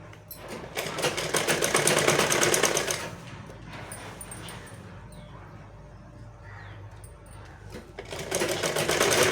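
A sewing machine stitches fabric in two loud bursts of fast, even rattling at the start and end, with a quieter gap between them and some faint background sounds.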